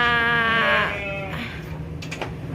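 A ewe in labour gives a loud, drawn-out bleat close by, which then fades into quieter farmyard ambience with faint rustling.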